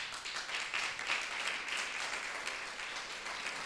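A church congregation applauds in steady, dense clapping that holds at a fairly even level throughout, with no clear voice over it.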